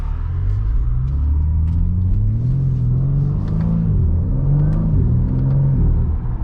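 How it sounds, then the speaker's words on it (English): Deep, steady exhaust rumble from a 2021 BMW G80 M3 Competition while driving, loud and continuous with rising and falling revs and no talking. "Into our M2 configuration, you can hear the exhaust."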